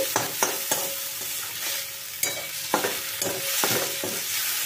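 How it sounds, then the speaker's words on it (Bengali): Spices sautéing in oil over a low flame, a steady gentle sizzle broken by repeated scraping strokes of a spoon stirring the pan, close and moderately loud, no voices. "দেখো লো ফ্লেম করে আমি এর সাথে কিন্তু মশলাটাকে একটুখানি সাঁতলে নিচ্ছি"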